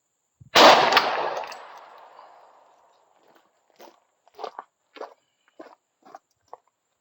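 A single loud, close .45 Auto pistol shot fired with an H110 powder handload cracks sharply and rings off over a couple of seconds, followed by faint scattered clicks and handling noises.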